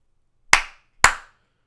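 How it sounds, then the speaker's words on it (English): Two sharp hand claps about half a second apart, loud and close in a quiet room, fired to switch on a Clapper sound-activated lamp. "let's try to clap two times"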